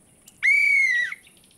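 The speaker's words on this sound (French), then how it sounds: "Mon sifflet." A toy whistle from a French children's cartoon gives one steady, bright, clear whistle tone lasting under a second, loud and close over a quiet background.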